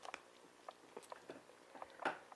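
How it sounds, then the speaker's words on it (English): A dog gnaws on a stick with a series of irregular, fairly quiet crunching bites and chews close by, with no voices. "Am I bothered that my dog is chewing a stick?"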